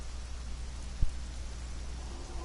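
Steady rain falls in the video game Conan Exiles as a constant, even hiss of drops, with one brief dull thump about a second in and no voices.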